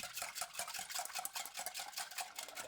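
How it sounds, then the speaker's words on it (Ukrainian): A soft cheese mass is being mixed with an egg and sour cream, giving quick, repeated scraping and sloshing strokes of a utensil against a bowl, close and alone. "Складники вимішати."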